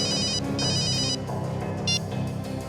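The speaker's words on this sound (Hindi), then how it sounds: "फ्रेडी का फोन था" A telephone rings in bursts of an electronic bell tone, two longer rings followed by a short one, loud and close with no speech over it.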